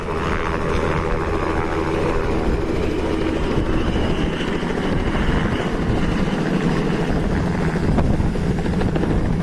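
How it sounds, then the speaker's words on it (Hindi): A helicopter taking off roars close by, its rotor chop and turbine whine loud and steady, with strong wind rushing throughout and no talking. "और ये हेलीकॉप्टर आप देख रहे हैं उड़ान भर चुका है।"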